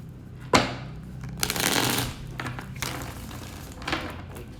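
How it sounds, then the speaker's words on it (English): A deck of tarot cards being shuffled by hand in a few quick riffling bursts, the sharp crisp flutters separated by brief pauses, close and clear with no talking. "I'm going to shuffle from camera another 3 times"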